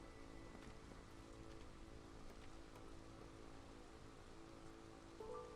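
Rain storm in the video game Against the Storm, a steady pattering downpour with faint droplet ticks, fairly quiet, no talk.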